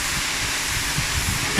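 Automatic car wash machine sprays a car at a BMW dealership, a steady hissing rush of water that runs on unbroken, with a low rumble underneath.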